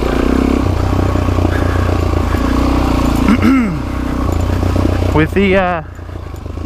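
An off-road motorcycle, jetted for trail riding, running in second gear on a rocky loop, its engine droning loud and close with brief rising revs, while the rider talks over it.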